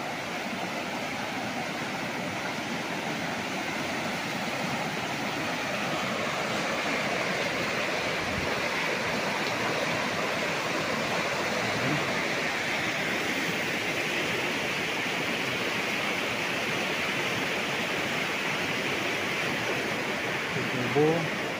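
A strong river current rushes past a riverside cottage at a resort in Cavinti, Laguna, a steady, dense roar of flowing water that stays loud and even throughout.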